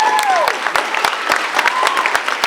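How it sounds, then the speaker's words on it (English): Audience applause at a school prizegiving ceremony, with sharp individual claps standing out over a softer spread of clapping and a voice speaking over it. "Can we have another round of applause for you?"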